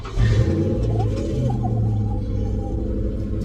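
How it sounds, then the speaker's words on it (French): An old car engine, long unused, turns over and catches, settling into a low, rough idle that rumbles on steadily without voices. "J'ai réussi à la démarrer et le bruit du moteur semble sain."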